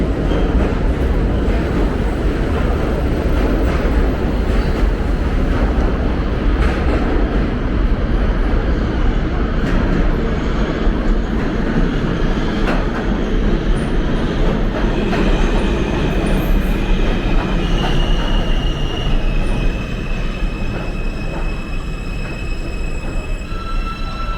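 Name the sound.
subway train emerging from tunnel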